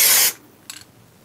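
A dry-lubricant aerosol can sprays in one short, loud hissing burst, followed by a faint brief rustle.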